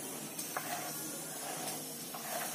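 A pot of tamarind, dates and jaggery in water bubbles and hisses steadily with a soft, close simmering sizzle and faint stirring ticks, and no voices.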